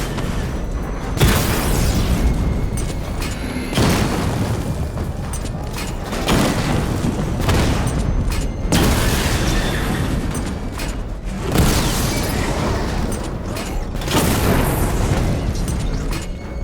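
Missile barrage explosions from the Batmobile in Batman: Arkham Knight thunder in a series of heavy, booming bursts every few seconds, each with a rolling low rumble under a continuous loud game soundscape.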